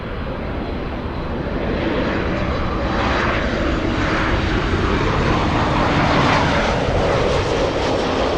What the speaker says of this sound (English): JetBlue on the move, JetBlue 388, flying to Boston, Massachusetts. That's an A321.